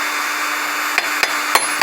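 A hammer taps a front wheel hub and bearing into place on a front-wheel-drive car, four strikes on metal in quick, slightly uneven succession, the sharp taps ringing close against a steady background hum.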